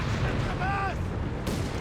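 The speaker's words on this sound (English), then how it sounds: "Guns blazing, Crusader responds," Gunfire and artillery booms rumble densely from a World War II battle in the strategy game Company of Heroes 3, as Afrika Korps and British forces exchange fire in a continuous, loud din.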